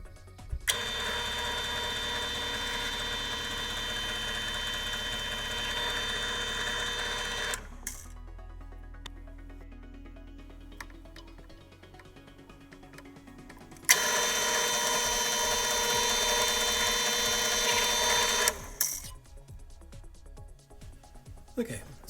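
A drill boring out epoxy-filled holes in a Boba Fett vambrace, heard as two long steady whining runs, close and fairly loud, with a quieter stretch of handling noise between them.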